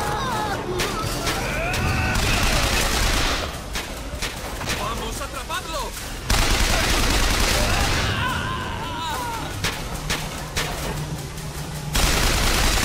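Rapid gunfire from the video game BioShock Infinite rattles in dense bursts and volleys, loud and close, with brief lulls between the bursts.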